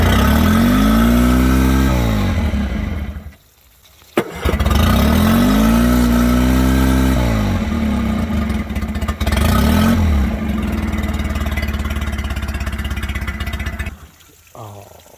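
An outboard-style boat engine with electric start, run switch and choke, sitting for a while, cranks and catches, then revs loudly and steadily close by, with a brief dip near four seconds and a cut near the end.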